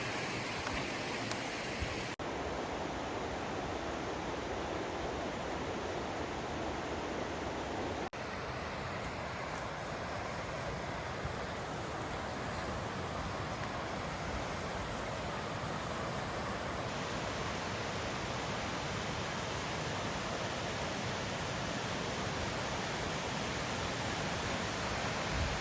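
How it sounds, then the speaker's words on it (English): Long Creek Falls on the Appalachian Trail sends out a steady, dense rush of falling water, a constant broadband roar with no talking over it. "Long Creek Falls. First major falls after Amicalola."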